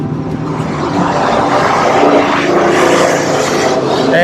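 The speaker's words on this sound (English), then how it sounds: "As you see a big city bus go by." A big city bus passes along busy Broadway in Long Beach, California, in winter, its engine giving a loud, steady roar that swells slightly across the stretch amid ongoing street traffic, with no talking.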